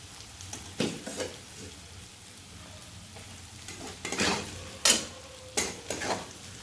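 Spice masala for a dhaba-style matar ghugni sizzles while it fries in a pan, a low steady crackle broken by several sharp stirring scrapes and clinks at irregular intervals, close up and without talk.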